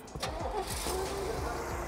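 An Oldsmobile Toronado's engine cranks and catches with a turn of the key, then settles into a steady, smooth, quiet idle close by.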